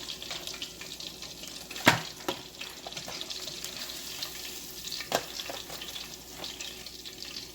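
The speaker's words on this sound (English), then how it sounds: "I'm going to go off camera and finish frying these up" A soft background sizzle of food frying in oil, broken by a couple of sharp clinks and splashes.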